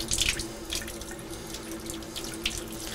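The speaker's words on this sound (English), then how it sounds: "push water through our outline to get the OxyClean out of that." Water runs steadily through a keg beer line under keg pressure, flushing out an OxyClean cleaning solution, a continuous close splashing flow like a running tap, heard alone.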